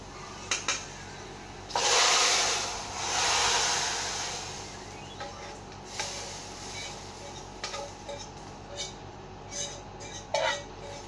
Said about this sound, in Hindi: And now we will going to add our tadka.